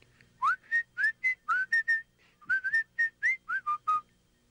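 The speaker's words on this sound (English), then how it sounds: "Brer Rabbit came hopping down the road, just whistling" A cartoon rabbit character whistles a jaunty tune in a PlayStation storybook game: about a dozen short, bright, rising notes in two quick phrases, quiet and alone, with no talking.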